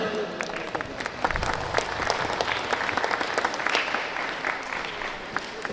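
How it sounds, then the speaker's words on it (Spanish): A crowd applauds at an inauguration of a national technological institute in Tlahuitoltepec, Mexico, with strong, continuous clapping that builds and holds without pause. "para que pido un fuerte aplauso."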